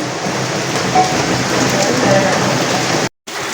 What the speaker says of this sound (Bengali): বাহিরে বৃষ্টি হচ্ছে